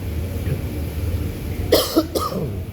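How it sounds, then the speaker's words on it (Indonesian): A person coughs twice in quick succession, sharp and close, with a quiet room hum around them and no talking during the coughs. "Maaf ya, masih batuk."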